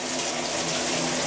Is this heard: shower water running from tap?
yes